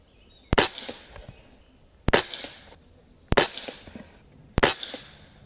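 Four sharp shots from an Umarex Walther Reign .22 caliber bullpup airgun firing pellets, evenly spaced about a second apart, each a crisp crack followed by a short metallic ring and distant rattling.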